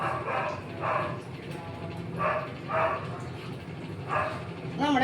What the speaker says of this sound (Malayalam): വീട്ടിലൊരു പട്ടിയുണ്ട് ആ പട്ടിയുടെ പട്ടി കിടന്ന് പുരക്കണ ശബ്ദം